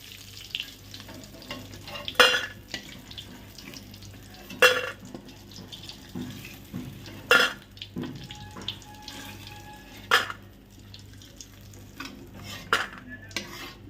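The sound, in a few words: frying lentil dumplings (kalai bori) in oil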